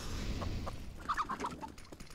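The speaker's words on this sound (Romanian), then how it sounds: "Mai e și găina asta aici." A chicken in a video game gives a few quick, mid-loud clucks over a steady game background with clattering sounds, without speech.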